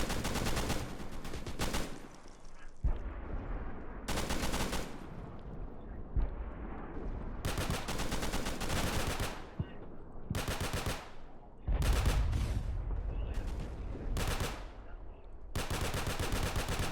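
Bursts of automatic gunfire in the video game Scorched Earth, loud repeated volleys broken by short pauses and some heavier booms, with no talk.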